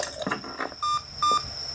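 Two short electronic beeps from an alarm clock in the Mr. Meat horror video game, each about a sixth of a second long, spaced a moment apart, after some faint low speech.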